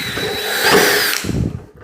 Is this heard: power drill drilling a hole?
yes